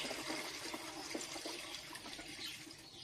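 Water pours into a 10-litre garden sprayer being filled for spraying strawberries, a steady gushing splash that runs throughout, fairly faint and even.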